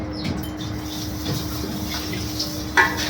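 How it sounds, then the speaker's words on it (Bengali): Grape juice pours into a bowl in a steady liquid splash and trickle, with faint clinks and background noise. "এখন আমি আঙ্গুরের জুসটাও ঢেলে দিচ্ছি এর ভিতরে"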